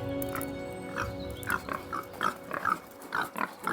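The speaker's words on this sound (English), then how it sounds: "We've got our 3 pork pigs in here" Three seven-month-old Berkshire gilts on a farm grunt in a steady run of short, close, low snorts spaced about every quarter second, with no talk over them.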